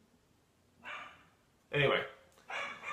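A dog barks in a few short bursts nearby, with faint background room noise and a word of speech from a person partway through.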